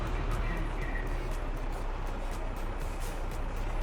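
A weather sonar on a big shed roof in Farming Simulator 22 gives a steady, loud mechanical drone with a low rumble underneath and faint, regularly repeating high ticks throughout.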